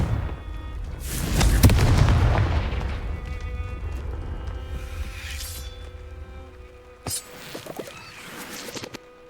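A Confringo blasting spell in Hogwarts Legacy goes off as one loud, deep boom that rumbles and fades over several seconds, followed by faint magical chimes and small pops.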